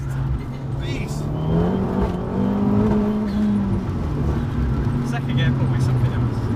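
A tuned Abarth 695 Biposto MTA with about 300 bhp pulls hard in second gear, its engine note rising in a loud, continuous, raspy drone with rushing road noise close by.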